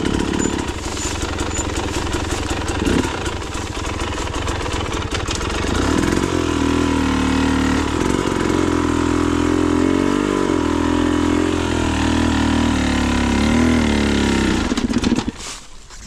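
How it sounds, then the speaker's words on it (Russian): A motorcycle on a hillside slope runs loudly and close, its engine rumbling at idle and then revving higher in a steady, wavering drone before cutting off near the end. "От склона мотоцикл отводи"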